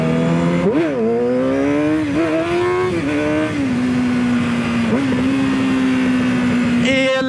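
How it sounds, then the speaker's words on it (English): A Kawasaki ZX10R and a Honda Fireblade race, their engines loud and close with rising and falling revs, a sharp climb early on and then a long sustained high-pitched drone. "So we got a ZX10 wants to race the Fireblade."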